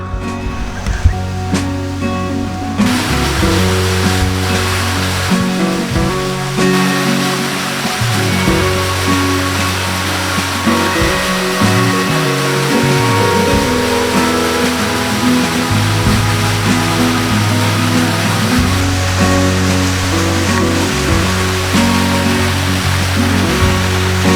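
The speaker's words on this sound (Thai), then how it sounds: "นี่เป็นน้ำตกชั้นที่หนึ่ง" Continuous rushing of water at the first tier of Ang Chang Nam waterfall, a loud, steady broadband roar throughout with shifting low-frequency rumble.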